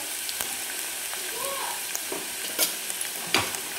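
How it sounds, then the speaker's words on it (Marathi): Ginger and garlic sauté in hot oil in a pan, a steady hissing sizzle with occasional spoon scrapes and clinks, close and constant. "चांगलं आल्या लसणाचं कच्चेपणा जाईपर्यंत आपण याला परतून घेणार आहे तेलामध्ये"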